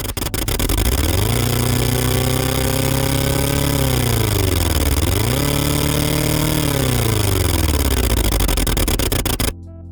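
A synthesized vehicle engine built in Kilohearts Phase Plant, a loud, buzzy droning tone that rises with throttle, holds, dips, then climbs again before cutting off abruptly at the end; no voices.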